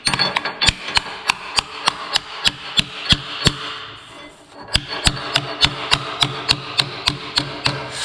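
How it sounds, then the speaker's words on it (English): Hammer and dolly work on a damaged car door's sheet metal: sharp metallic strikes at a steady rhythm, roughly two to three per second, close and crisp with a brief pause midway, and no talking. "I'll take a hammer and dolly and work that out"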